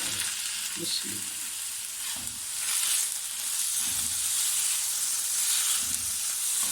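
Small boneless chicken pieces fry in a hot pan for hot and sour soup, a loud continuous sizzle and hiss with occasional stirring knocks and scrapes.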